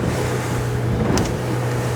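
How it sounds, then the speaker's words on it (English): A Haines Signature 543SF motorboat cruising at about 40 km/h crosses a boat wake, with a steady engine drone and wind rush and a brief splash of water against the hull. "We're going to go over a bit of a boat wake now."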